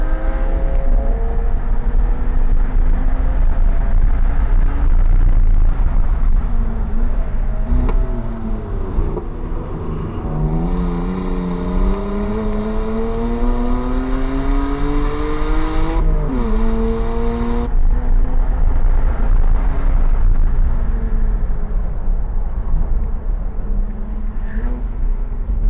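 A race car on track at a time-attack event pulls hard through the gears, its engine note climbing in rising sweeps, then dropping sharply at each shift, loud and close throughout.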